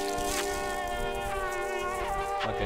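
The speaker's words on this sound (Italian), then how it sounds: "Vediamo quanto è forte questa mosca." A fly buzzes steadily and loudly throughout, with a droning insect whine over a dark ambient game soundtrack in the puzzle-platformer Limbo.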